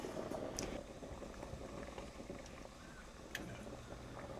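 Salted pot of water at a rolling boil with pasta shells cooking, a steady bubbling and simmering hiss, moderately loud and continuous with no talking.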